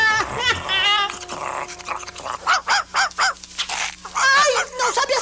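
Several sharp cartoon dog barks and yelps in quick succession, mixed with excited Portuguese voices and cartoonish background noise.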